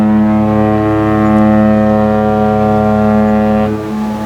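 A ship's foghorn sounds one long, deep, steady blast that holds loud and close for nearly four seconds before cutting off into a fading tail.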